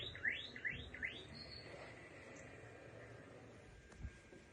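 Swallow-like chirps used as a sound effect in a staged children's fairy-tale performance: a quick series of high, rising tweets near the start, then faint background hum with no talk.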